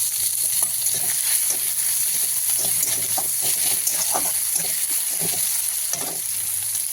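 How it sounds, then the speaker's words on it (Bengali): Chopped onions sizzle and fry in hot oil tempered with dried chilli and mung dal in a Bengali kitchen, a loud continuous crackle with occasional stirring scrapes, no one talking. "এবার এখানে দিয়ে দেবো কুচনো পেঁয়াজ।"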